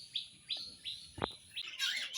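Pet birds chirp in short, bright, repeated calls close by, several quick notes over about two seconds with faint background hiss.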